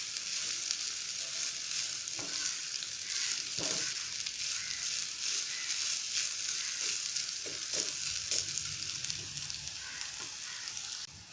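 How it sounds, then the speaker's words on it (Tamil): Chopped mango ginger sautés in hot oil in a pan, a continuous close sizzle with occasional stirring scrapes and clicks, no voices. "விடாமல் ஒரு 5 மினிட்ஸ் நல்லா எண்ணெயிலேயே இந்த இஞ்சியை வதங்க விட்டு எடுத்துக்கலாம்."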